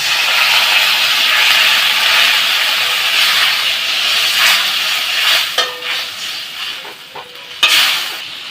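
Water poured into a hot pan of Bengali fish curry (bhola fish jhal) hisses and sizzles loudly and steadily, then settles into softer bubbling with a few clinks near the end, close up with no talking.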